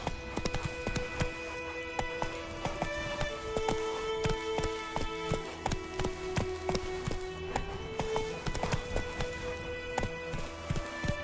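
Horse galloping in The Witcher 3, a steady rhythm of hoof strikes close up over game music and ambience, with no one speaking.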